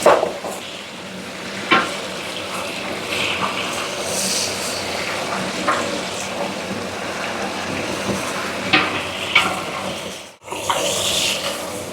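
Beef trotters frying in hot oil with onion, a steady crackling sizzle that runs throughout, with occasional scrape and clatter from stirring and a brief drop-out near the end.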